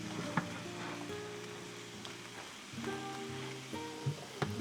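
Roasted sausage and garden vegetables sizzle in a pan while being stirred, a moderate continuous frying hiss with intermittent clinks and scrapes of the utensil, close by.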